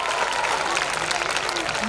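An audience claps at a school annual function, a dense, steady burst of applause from many hands with a faint murmur of voices.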